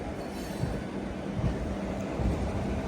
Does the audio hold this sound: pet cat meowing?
no